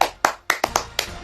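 An audience claps in a few loose, uneven bursts, about six separate sharp claps over a moment, close and bright with no sustained applause.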